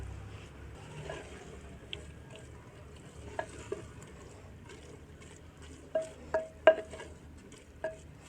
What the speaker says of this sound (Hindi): सब्ज़ धनिया डालने के बाद अभी हम इसको अच्छे से मिक्स करेंगे